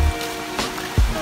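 Rain falling in a forest during a durian hunt, a soft steady patter across the whole stretch, with a couple of low thumps and bumps near the start and end.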